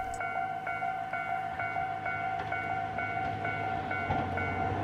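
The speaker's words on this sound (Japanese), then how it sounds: "さて、どうやら通過列車が来るようです。" A single-car train on Hokkaido's Soya Main Line rumbles past a station steadily, with a repeating high-pitched hum and faint rhythmic clatter throughout, fairly close and continuous.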